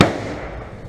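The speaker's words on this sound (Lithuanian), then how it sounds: "Granata!" An airsoft grenade going off in close-quarters play, one sharp loud bang with a brief ringing decay, near and alone.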